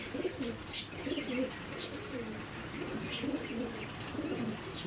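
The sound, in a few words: Giribaj pigeons cooing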